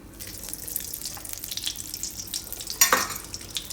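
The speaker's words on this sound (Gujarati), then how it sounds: "હવે થોડુંક ઘી પાછું નાખીશું." Ghee sizzles in a pan while kheer is being prepared, a close, steady hissing crackle with a brief louder burst near the end.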